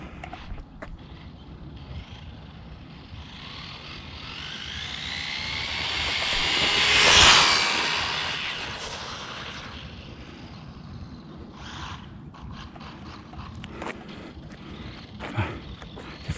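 A WLTOYS 124018 RC car on a speed run whines in from afar, builds to a loud high-pitched scream as it passes close by, then fades away into the distance.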